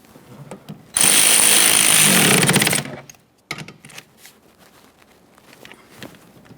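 A power tool runs loud and close for about two seconds while snugging the mounting nuts on a Toyota Sienna, followed by quieter clicks and handling noises.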